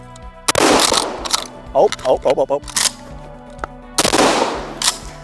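Stevens 320 pump-action shotgun firing buckshot: two sharp, loud blasts a few seconds apart, with a quick series of clacking pump-action cycles between them and a brief spoken exclamation.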